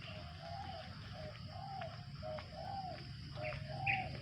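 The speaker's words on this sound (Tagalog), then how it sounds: "Mga huni ng ibon, lalaking ibon." A male bird sings in a forest, repeating short whistled phrases at a steady rhythm, with soft chirps between them over a constant low background hum. It sounds moderately close and carries on alone, with nobody talking.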